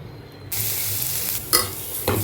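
Garlic sautéing in a pan while sesame powder is being made, a sizzle that starts abruptly and continues steady and close, broken by a couple of short stirring scrapes.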